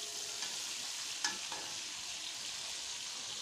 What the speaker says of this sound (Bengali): এখানে পেঁয়াজটা ভেজে নিই।